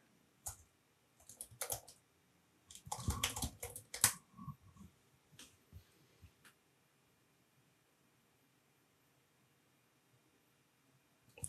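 Terminal commands typed on a computer keyboard: bursts of quick clicking keystrokes, near and crisp, with pauses between runs and long quiet gaps.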